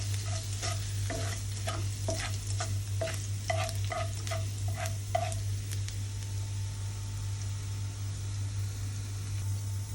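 Ginger fries in hot oil for a Kerala-style curry before garlic goes in: a steady, close sizzle with a quick run of rhythmic ladle scrapes against the pan in the first half, then quieter frying over a low hum.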